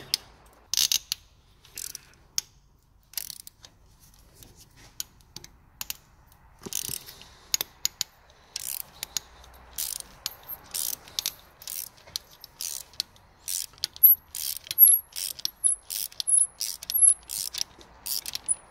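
A socket wrench with a deep socket unscrews the glow plugs on a Dacia Logan, giving rapid dry ratchet clicks in short bursts with pauses between. The clicks are close and crisp, growing denser toward the end, with no talk.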